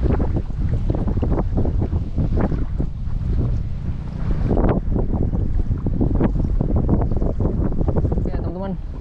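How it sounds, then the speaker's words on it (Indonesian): Strong wind roars steadily outdoors on a fishing boat at sea under a heavily clouded sky, buffeting the microphone with constant gusty rumble and faint water wash throughout. "Anginnya kencang banget nih guys."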